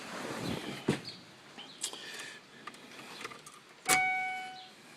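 Car keys jangle in short bursts before a motor starts up, with a brief sharp rattle and a louder clatter near the end, surrounded by faint background noise.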